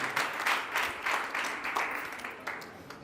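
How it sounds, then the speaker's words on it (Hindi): Guests clap during a wedding ceremony with worship, their applause pulsing in a fairly regular rhythm of strong bursts before it eases off slightly toward the end. "जोर से तालियां मार लीजिए"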